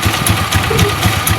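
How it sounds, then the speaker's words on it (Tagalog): Rusi Macho TC150 motorcycle engine idling after a tune-up: a loud, close, steady mechanical rumble with an even, rapid pulsing throb and no talk. "So, ayan na guys, sound check tayo ng makina."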